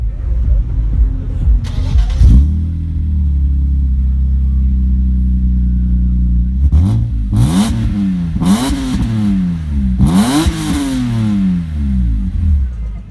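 A 1997 BMW M3 E36 idles with a deep rumble and then gets several sharp throttle blips, each revving up and falling back. The revs are loud and close, with a short pause between them.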